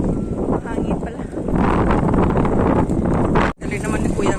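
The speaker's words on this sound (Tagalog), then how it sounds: "Wait, mainit. Mahangin pala." Strong wind gusting at a Hong Kong harbor after Super Typhoon Saola, a loud, roaring buffet across the microphone with a brief drop near the end.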